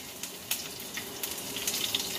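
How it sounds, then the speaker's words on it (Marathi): Green chillies dropped into three tablespoons of hot oil in a heated kadhai give a steady, soft crackling sizzle with small pops throughout, close by and with no talking. "कढई तापून घेतली आहे. त्याच्यात मी 3 चमचे टेबलस्पून तेल टाकलंय. मी टाकते थोडीशी हिरवी मिरची"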